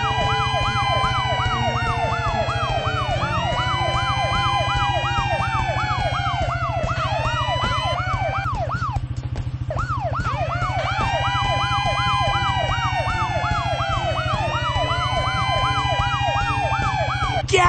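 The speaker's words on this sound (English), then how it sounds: "To turn our sirens on and off, use your mouse to click on the fire trucks." Several overlapping fire truck sirens wail continuously in rising and falling sweeps, loud and close, over a steady low engine drone, with a brief quieter dip midway, in a children's video game.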